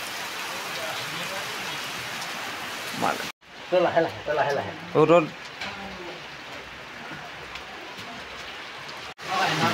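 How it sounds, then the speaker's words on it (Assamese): Steady rain patters on a building rooftop as a dense hiss, broken by a short gap where a person speaks nearby, then the downpour resumes. "বা কি বৰষুণ পৰি আছে"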